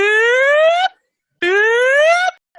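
An alarm rings like a fire alarm in an office hallway, two loud, bright electronic tones, each rising slightly over about a second, separated by a short silence.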